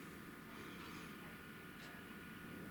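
A model railway Class 37 diesel locomotive runs in a hobby depot layout, giving a steady, faint whirring hum that holds evenly throughout with no voices.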